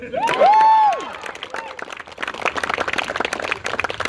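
At a campaign speech at Mystic Farm Distillery in Durham, North Carolina, a loud sustained whistle rings out, then a crowd breaks into scattered clapping and cheering that builds into busy applause.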